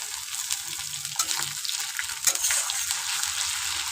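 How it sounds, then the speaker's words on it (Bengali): Onion frying in a pan with ginger garlic paste and chopped tomato, a steady close sizzle with light stirring scrapes and a few louder crackles, no talking. "তো এর মধ্যে দিয়ে দেবো একটু আদা রসুন বাটা, যেহেতু ভাজবো ভালো করে, আর টমেটো কুচি একসাথে খুব ভালো করে ভেজে নেব।"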